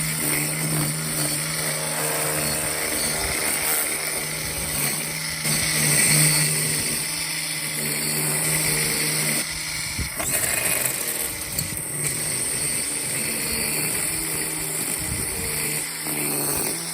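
A DeWalt 20V XR battery string trimmer cuts grass on low speed, its motor whirring steadily with the line swishing through the grass, with a brief dip near the middle.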